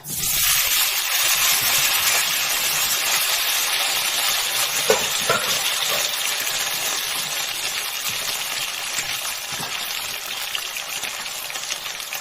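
Food sizzles steadily in a hot frying pan, a dense continuous crackle with a few brief louder spatters, close and alone without talk, while potatoes are prepared for a burger-and-fries meal.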